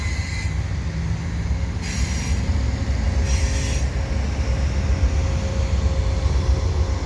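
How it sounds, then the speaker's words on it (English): A Via Rail passenger train led by a P42DC locomotive with Budd stainless-steel coaches rolls past with a loud, steady rumble and rattle, with bright hissing wheel squeals rising at intervals. "And it looks like a Via train coming through as well."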